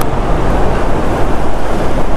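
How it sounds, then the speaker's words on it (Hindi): Strong, loud wind gusts buffet the microphone high in the Spiti Valley mountains, a continuous roaring rush with steady turbulence throughout and no talking. "हवा ना बहुत तेज चल रही है, बहुत तेज हवा"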